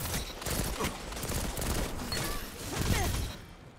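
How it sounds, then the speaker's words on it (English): Rapid bursts of pulse rifle fire in a Destiny 2 firefight, clattering steadily and close through the whole stretch with a brief lull near the end. "We'll use a pulse rifle for this range right here."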